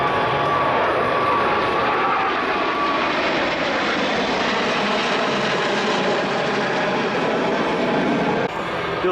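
Aircraft flying past in a tight box formation at the Avalon air show, a loud, steady engine roar that holds through the pass and fades slightly before stopping abruptly.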